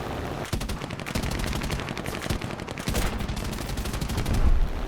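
Rapid bursts of aircraft machine-gun fire from an F4U-1D Corsair in the War Thunder air-combat game, several sustained volleys of dense crackling shots close up and loud over a steady engine drone.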